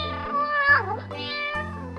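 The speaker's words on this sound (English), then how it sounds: "cat" A cat on a farm meows once, a drawn-out rising and falling call, near and distinct above steady background music.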